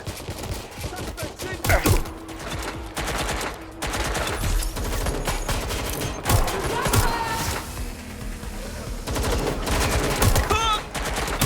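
Sustained gunfire in Watch Dogs Legion, with dense, rapid bursts and volleys of shots running almost without a break, loud and close, mixed with other game action.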